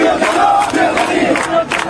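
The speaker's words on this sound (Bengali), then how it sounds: "এরপর ছাত্রদল দেখেন কি চমৎকার স্লোগান দিয়েছে।" A student political group's crowd chants slogans in unison, loud and close, a dense mass of voices rising and falling in rhythmic shouted phrases.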